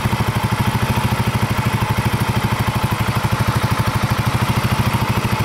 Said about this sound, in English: Even though it's got a blown head gasket, it's still running nice.